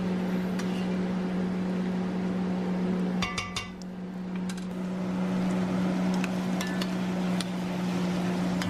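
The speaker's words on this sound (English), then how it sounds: "So stir that seasoning around, always keeping it moving" Seasoning and garlic stirred around a frying pan with cabbage and smoked sausage, a steady hum with sharp metallic spoon clinks and scrapes in the middle and near the end, no talking.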